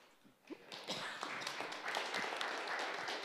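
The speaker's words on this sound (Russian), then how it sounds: "Прошу аплодисменты" An audience at a courtyard community talk in Moscow's Arbat district breaks into applause, starting softly and building into a steady, dense patter of clapping that continues to the end.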